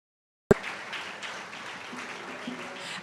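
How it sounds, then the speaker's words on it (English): Crowd applause at a jazz concert, a steady wash of clapping that rises abruptly and holds evenly for a few seconds. "give a huge round of applause for"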